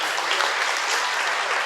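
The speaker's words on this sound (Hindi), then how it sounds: "तालियां बजाओ बाबा।" An audience clapping at a satsang, dense sustained applause from many hands, loud and close throughout.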